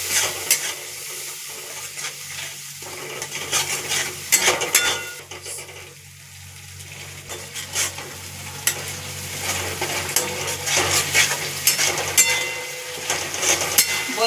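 Spice paste for a Bengali pointed-gourd pakora curry fries and is stirred in a pan, a steady moderate sizzle with frequent scraping strokes of a spatula against the metal, no voices.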